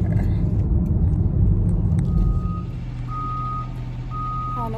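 A school bus idles with a low diesel rumble that drops in level partway through, then its reversing alarm emits a series of evenly spaced high beeps over the engine drone.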